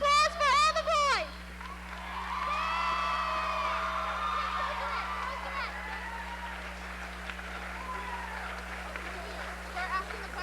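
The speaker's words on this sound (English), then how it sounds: "Let's have a round of applause for all the boys." A crowd at a 1999 Mr WHS school pageant applauds and cheers the boy contestants: steady broadband clapping with whoops and shouts rolls on for about eight seconds after a brief announcing voice at the start.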